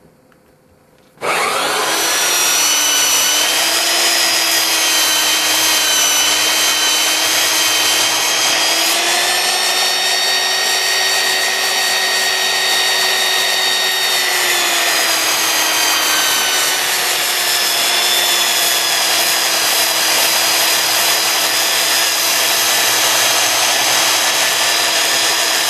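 A power grinder takes rust and pitting off a steel knife blade, a steady loud high-pitched whine with a harsh grinding hiss that holds unbroken for the whole stretch after a short quiet start.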